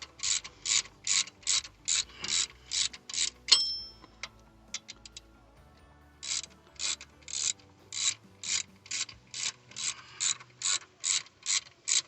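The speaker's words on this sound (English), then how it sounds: "Once you have finished unscrewing, this bolt should come out easily like that." Ratchet loosening a throttle position sensor bolt on a Cadillac Escalade, two runs of rapid, evenly spaced clicking strokes separated by a brief pause with a few light metallic ticks.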